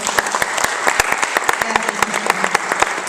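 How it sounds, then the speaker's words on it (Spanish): A church congregation claps for the visiting pastor, a brisk, even burst of close, dense applause that holds steady throughout the short stretch. "un fuerte aplauso para él"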